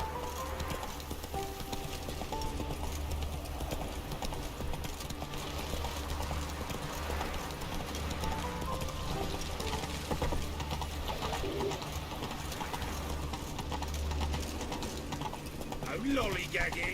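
Roach, a horse in the video game The Witcher 3, moves with rhythmic hoofbeats under a low steady rumble, birds cooing faintly in the background and speech in the mix.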